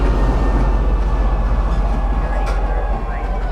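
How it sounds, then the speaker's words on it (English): A train in the space sim Star Citizen hums with a loud, steady low rumble of rolling carriage noise and a faint high whine, continuous and close throughout. "disembarking the train"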